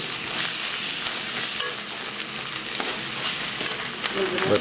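Chicken fries with ginger garlic paste for a Nepali chicken soup, giving a loud, dense, continuous sizzle with scraping and stirring noises and no talking.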